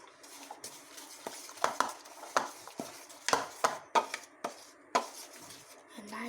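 Cookie paste being mixed with a few drops of vanilla essence in a bowl, giving repeated scraping and clinking strokes of a spoon against the bowl at an irregular rhythm, close and fairly clear.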